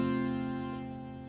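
Poorly barred F barre chord strummed once on a guitar, ringing briefly with a buzzy, muted edge and fading quickly, heard alone.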